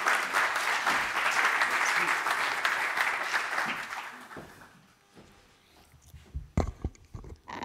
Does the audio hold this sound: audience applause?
yes